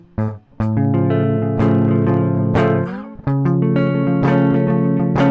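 An electric guitar strums distorted chords in a steady rhythm, each chord ringing out loud and close, with a brief pause partway through.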